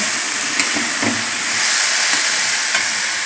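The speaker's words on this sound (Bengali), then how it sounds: "তেলের মধ্যে ভেজে নিচ্ছি" Chickpeas and other ingredients fry in hot oil for a Bengali leaf curry, giving a loud, continuous hiss with faint scattered crackles and no talk.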